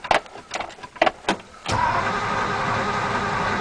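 A 1954 Ford Mainline's engine cranks in several bursts, then catches at about the midpoint and settles into a steady, loud idle, close to the microphone.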